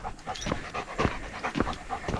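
A dog panting on a mountain walk, steady close rhythmic breaths repeating several times a second at moderate volume, with no one talking.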